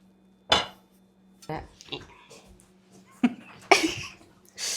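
Dishes and cutlery clatter while fish curry is plated to serve with kappa, a few sharp clinks and knocks spaced apart over a low steady hum.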